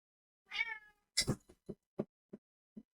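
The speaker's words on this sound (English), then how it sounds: "What a loud kitty he is." A cat gives a long, drawn-out meow up close, followed by a string of five or six shorter, clipped meows at a steady pace.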